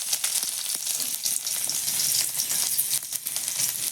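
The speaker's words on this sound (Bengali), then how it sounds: "রসুন ভাজা হয়ে গেছে" Garlic fries in oil in a wok, a continuous close sizzle with fine crackling and a few faint stirring clicks, no one talking.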